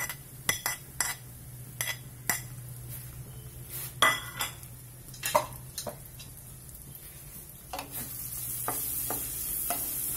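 Banana sautés in a pan, with a quiet sizzle under sharp, scattered clinks and scrapes of a utensil against the pan, the frying noise swelling slightly near the end, no voices.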